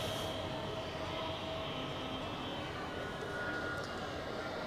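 A Swiss Airbus A321neo at Zurich Airport gives off a steady, broad engine roar heard from a distance, droning evenly throughout with no clear change in pitch.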